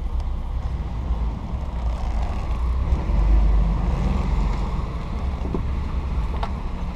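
A van's engine rumbles steadily at low pitch as it backs into a long L-shaped lot, with wind buffeting the microphone throughout and no talking.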